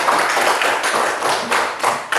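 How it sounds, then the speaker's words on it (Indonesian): A classroom of students clapping for classmates after a group presentation, a short burst of dense, close applause with several rhythmic peaks and no talking. "Beri tepuk tangan."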